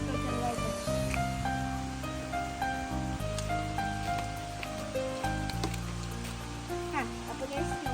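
Rain falling by a stream during a summer downpour, a soft, steady patter of drops on water and surfaces, heard alongside clinking and knocking sounds and a voice in the background.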